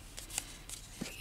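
Scissors snip thread off a small handmade book, giving a few quick, light, close cuts in brief succession.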